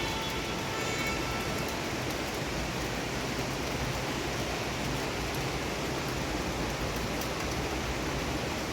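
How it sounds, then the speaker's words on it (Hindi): Heavy monsoon rain in Ghaziabad pours down in a steady, unbroken hiss that stays dense and even throughout, with no voices. "आज सुबह से लगातार बारिश हो रही, लगातार बारिश, झमाझम बारिश हो रही है"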